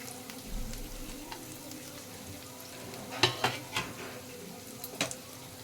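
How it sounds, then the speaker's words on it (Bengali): Steady frying sizzle of onions and chopped green chillies in a pan, with a few sharp clinks of a spoon stirring against metal near the end. "পেঁয়াজটা আমার ভালো করে ভাজা হয়ে গেছে। এবার দেব কেটে রাখা কাঁচা লঙ্কা"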